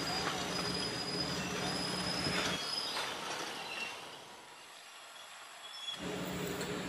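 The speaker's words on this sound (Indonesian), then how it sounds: "tampak samar-samar lokomotif mulai berjalan melewati rimbunnya pepohonan" A sugarcane lorry locomotive at PG Kedawung moves along narrow rails through dense trees, a steady rumble with wheel squeal and rail noise that fades and thins midway before rising again.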